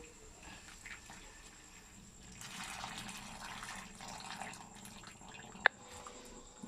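Liquid is poured through a strainer while making fenugreek kali, a soft, faint trickle and splash lasting a few seconds in a quiet kitchen, with a small clink near the end.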